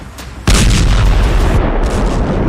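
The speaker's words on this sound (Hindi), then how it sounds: "बम धमाका" A bomb blast in a car on a Delhi street near the Red Fort, evening: a sudden loud booming explosion hits after a quieter half second, followed by a sustained roaring rumble and debris noise.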